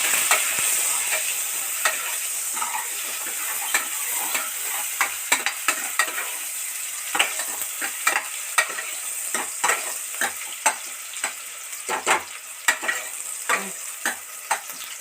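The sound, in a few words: sautéing small and big onions until golden in mutton gravy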